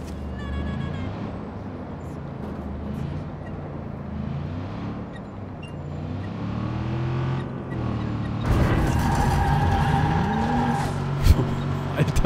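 A car speeding through Watch Dogs 2, with a steady loud engine drone that builds into a harsh tire skid and screech near the end.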